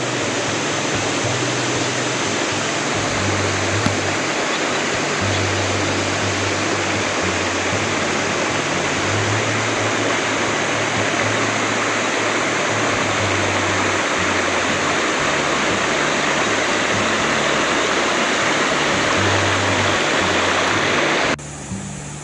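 Water flows steadily at a kids' pool in a Zambales camping spot: a dense, even rush without a break, which cuts off abruptly near the end.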